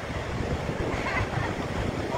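Ocean waves wash onto a beach in a steady, close roar of surf mixed with wind buffeting the microphone, with no speech over it.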